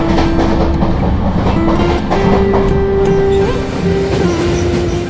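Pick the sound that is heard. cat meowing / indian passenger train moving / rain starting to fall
indian passenger train moving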